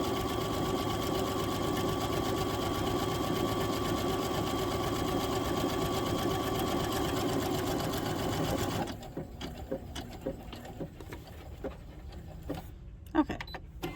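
A sewing machine stitches an apron in a steady loud mechanical whir for about nine seconds, then stops, leaving faint clicks and handling noises.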